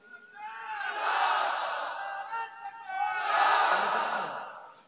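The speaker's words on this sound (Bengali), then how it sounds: "তাকবীর মারো তো দেখি" A large crowd at a Bengali religious gathering shouts a takbir chant in two long, loud surges, voices massed together and swelling like a battle cry, with a short dip between them.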